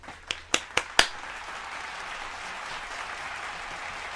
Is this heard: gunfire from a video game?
no